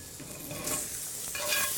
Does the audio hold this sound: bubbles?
no